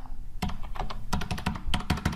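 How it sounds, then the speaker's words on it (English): Someone types on a computer keyboard, entering a number into printer setup software: close, crisp keystrokes in quick uneven clusters with short pauses between them, no voices. "I'm just typing in a fake number here."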